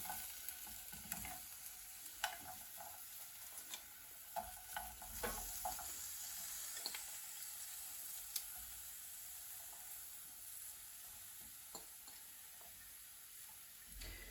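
Onions cooking in oil in a pan as a bed for liver give a faint, steady sizzle, with scattered soft clicks and scraping stirs throughout and no voices.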